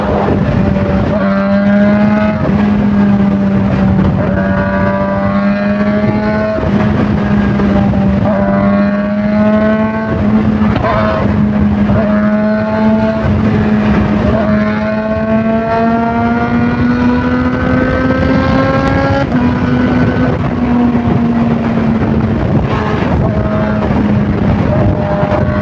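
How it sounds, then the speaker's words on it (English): Loud sport motorcycle engine revving up and down through the gears, a rising and falling whine with sharp crackling pops from the exhaust throughout, popping whenever the throttle closes. "every time I close the throttle, there's a pop."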